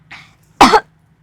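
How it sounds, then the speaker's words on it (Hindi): A single sharp, loud cough rings out alone after a softer breathy throat sound, followed by the start of another cough at the very end, all close and clear. "देखिए इसे खांसी आई"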